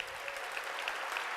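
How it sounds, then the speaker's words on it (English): A crowd applauding at a 2014 graduation ceremony, a dense, even wash of clapping with a few sharper claps standing out, somewhat distant. "I think they deserve another round of applause, huh?"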